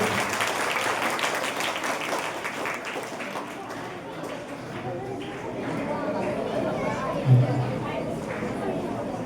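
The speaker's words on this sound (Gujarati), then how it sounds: "જોરદાર તાળીઓથી આ બાળકોની આપણે શાળામાં પ્રવેશ અપાવીએ." Applause at a Gujarati high school admission festival welcomes children into school, a sustained crowd clapping mixed with chatter, loud and continuous throughout.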